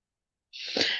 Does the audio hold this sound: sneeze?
yes